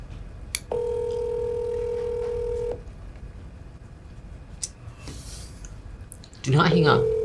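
A phone call rings back with a steady two-second electronic tone over a noisy room. A second ring starts just before the end.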